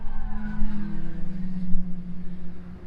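A Caterham race car's engine drones steadily while a sustained tyre squeal cuts through as it works the final corner at Castle Combe circuit, loud and fairly close.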